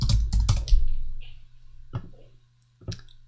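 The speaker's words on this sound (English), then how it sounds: "I'll just try and type it in." Typing on a computer keyboard: a quick cluster of key clicks, then a couple of isolated taps, close and clear with no talk.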